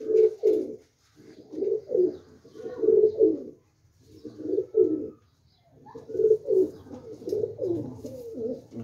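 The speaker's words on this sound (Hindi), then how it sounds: "ये उनके घर के कबूतर हैं गोल्डन" Golden pigeons coo in repeated low, throaty bursts with short pauses between them, fairly close and clear, with no talking.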